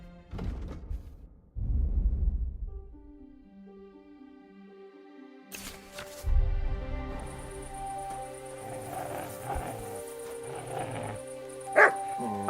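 In the medieval role-playing game Kingdom Come: Deliverance II, a dog gives a few loud, close barks. A layered musical score then rises and plays on beneath further faint game noise.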